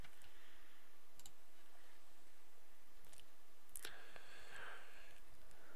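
Mouse clicks in a web booking tool, a few sharp, isolated clicks spaced seconds apart, close and faint against quiet room hiss.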